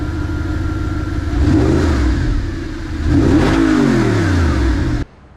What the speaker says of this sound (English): Give you a little rev so you can see how quiet I was saying it is.